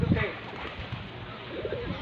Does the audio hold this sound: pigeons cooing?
yes